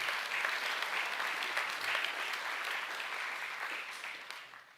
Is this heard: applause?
yes